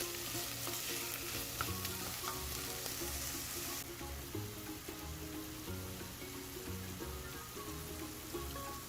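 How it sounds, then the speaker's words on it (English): Cubed meat frying in a pan over a medium flame, giving a steady, close, fairly loud sizzle that goes on without a break, with the occasional stir and no talking. "I'm going to be adding the meat that is cut into cube form, and I'm going to fry it for about 10 minutes on medium flame"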